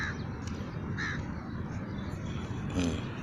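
Crows caw outdoors over a fishing area, a few separate calls standing out clearly above steady background noise.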